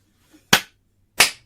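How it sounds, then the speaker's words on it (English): Two separate hand claps spaced well apart in a deliberate slow clap, crisp and close, with near silence between them. "slow clap"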